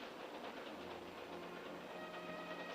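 A train rolls steadily along the rails, its continuous rumble and hiss of wheels on track filling the whole stretch at an even, fairly loud level with no pauses and no talk.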